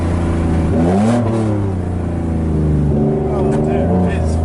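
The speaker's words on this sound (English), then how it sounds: "That was like a perfect rev match." A BMW E36 engine revs through a heel-toe downshift, heard from inside the car as a loud droning hum that rises and falls in pitch, with people talking over it.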